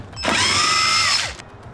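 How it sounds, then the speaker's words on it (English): Cordless power drill whirring at high pitch for about a second while driving a fastener during work on a Nissan 300ZX, starting and stopping abruptly, close and loud. "Not a big power tool guy, but when you got this many screws or fasteners."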